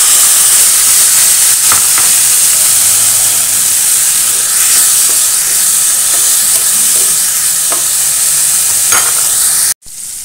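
Mung beans tipped into a hot pot of oil with ginger, garlic and onion set off a steady, loud sizzle and hiss of frying with faint stirring scrapes, cutting off abruptly near the end.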